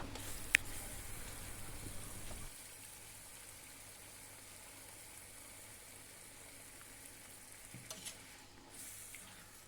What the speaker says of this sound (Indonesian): bumbunya udah matang, kemudian diaduk-aduk